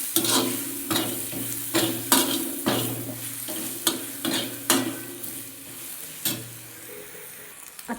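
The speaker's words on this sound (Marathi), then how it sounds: "ही हळद आपण परतवून घेऊ." Turmeric being stirred and sautéed in a pan while making okra curry: a steady soft sizzle, with repeated scraping strokes of a spoon at a loose rhythm, close by, no voices.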